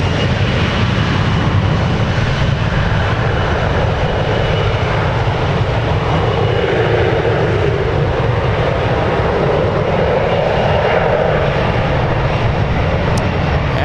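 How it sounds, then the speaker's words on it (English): An Embraer E175 jet spools up on a busy San Francisco International Airport runway, a loud, steady, broadband engine roar holding evenly throughout with no talk. "We have the E175 powering up and United Airlines getting a move on."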